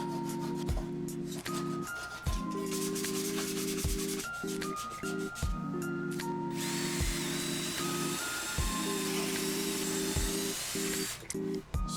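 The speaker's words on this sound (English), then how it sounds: "So I just drilled dowels." Power drill boring dowel holes into walnut slab boards for desk cabinets in a basement shop, heard as a steady high whine broken by repeated short bursts and pauses, close and loud, with no talking.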